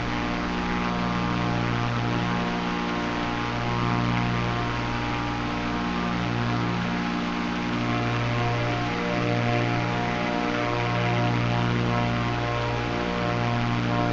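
Airplane engine in a flight simulator game flying over Croatia and its islands, a steady droning propeller hum with slowly shifting tones, continuous and alone.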